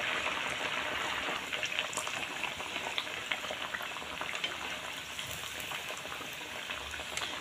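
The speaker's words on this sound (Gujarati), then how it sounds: "ગેસ ધીમો રાખીને તરવાના" Sago and potato pakodas deep-fry in oil over a low flame, giving a constant bubbling sizzle with small pops and crackles from start to finish, close and steady, with no talking.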